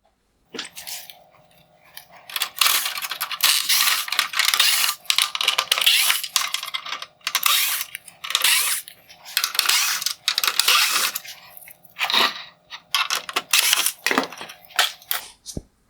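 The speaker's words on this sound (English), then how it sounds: "I will begin by removing the T20 Torx screws holding on the outer bezel." T20 Torx screws being backed out of the outer bezel of a 2016-2019 Mercedes-Benz GLS550 LED headlight, with bursts of close, clicky ratcheting and scraping separated by brief pauses, and no talking.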